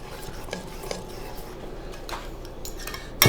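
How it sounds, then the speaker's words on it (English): A spatula scrapes and taps around a mixing bowl of bibingka batter in quick, irregular strokes, light clinks and rubs close by, ending in a sharper knock against the bowl. "So you always have to scrape the bowl."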